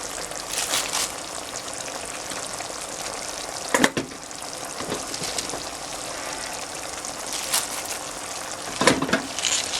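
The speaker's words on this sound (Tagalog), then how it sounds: "Then, ilalagay na rin po natin yung ating cabbage." Cabbage and dried shrimps sauté in a hot pan for ginisang repolyo, a loud, steady frying hiss broken by a few sharper stirring scrapes and clatters.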